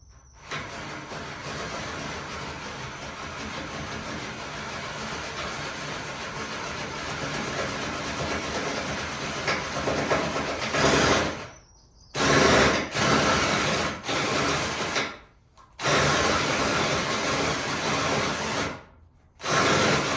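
A continuous, grinding electric drill, smoking, runs loud and steady drilling bolt holes to mount a fishing rod holder on a Winnebago Travato camper van, then cuts out and restarts several times in short bursts near the end.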